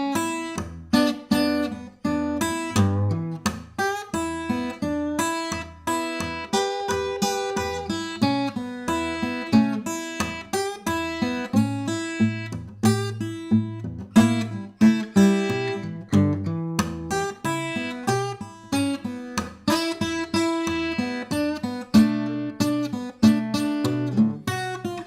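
A model improvised solo with a walking bass line plays continuously as a steady stream of plucked notes at moderate volume, with no voice over it.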